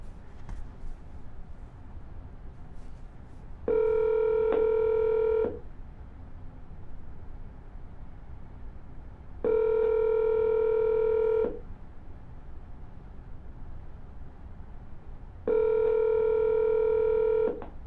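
Three bursts of multi-tone telephone dialing, each about two seconds long and evenly spaced, sound clearly over a faint steady background hiss while a call is redialed.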